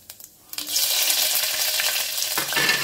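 Chopped green chili drops into hot oil with cumin seeds and bursts into a loud, steady, close sizzle after a few small taps, the frying hiss continuing without a break and without talk.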